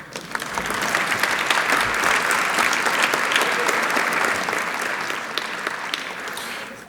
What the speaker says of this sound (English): And we can clap for Bill, it's okay.